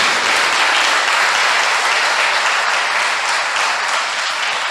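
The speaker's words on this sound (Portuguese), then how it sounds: "Uma salva de palmas para Ele." A church congregation gives a sustained round of applause during a Pentecost Sunday homily, dense and even, filling the space from start to finish with no talk.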